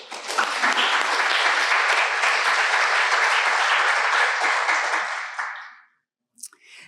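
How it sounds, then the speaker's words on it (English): Lecture hall audience applauds steadily for about six seconds at a memorial legacy lecture, dense and even, then fades out, with a brief faint sound afterward. "Can I just give you a clap?"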